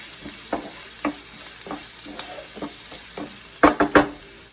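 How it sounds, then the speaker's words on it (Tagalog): Chopped onion and garlic sautéing in hot oil in a pan, a low sizzle under repeated stirring scrapes and knocks that grow louder near the end. "Lagyan na natin yung onion garlic. Lutuin lang natin yung ating onion garlic."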